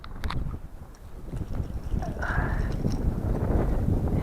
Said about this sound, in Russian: Да, ветер-то не шуточный.